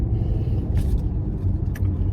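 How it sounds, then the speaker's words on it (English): Car rolling along a road from inside the cabin, a steady low engine and tyre rumble with no one talking. "I'm just rolling in the car."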